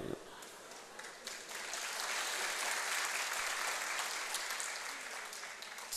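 Live audience at a Burmese comedy stage show by Zarganar bursting into sustained, swelling applause that fills the room, steady broadband clapping with possible laughter mixed in, no clear speech.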